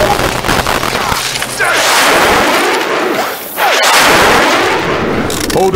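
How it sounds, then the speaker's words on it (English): Heavy gunfire in the video game Left 4 Dead 2, loud continuous bursts and booming shots filling the clip with brief whooshes, and a voice talks faintly under the barrage. "They shooting me, man."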